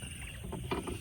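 Paddles push a small boat through water while out fishing, with close, soft splashing and swishing strokes and gentle water movement all the way through.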